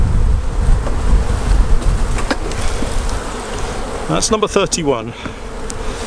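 Honeybees swarm around an open hive with a dense, continuous buzzing and a few louder passes close by, while a person speaks briefly near the end.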